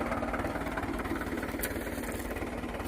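A tractor engine runs in an open farm field after ploughing, a steady, rumbling low idle with a regular throbbing pulse, moderately close and unbroken throughout.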